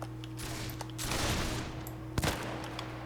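Musket gunfire in Mount and Blade Warband with a Victorian-era mod, scattered shots from a skirmish line popping at middle distance over a steady game background, with one sharper crack near the end.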